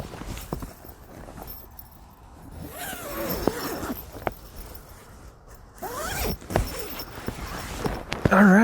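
A zipper on a SunYear single hammock's bug net is pulled closed in several long, scratchy runs at close range, with small rustles and handling sounds between the pulls.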